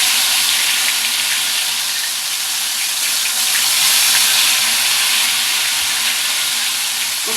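Ghevar batter poured into hot oil in a pan, giving a loud, steady hiss of vigorous frying that stays dense and continuous, with close-up bubbling and spattering throughout.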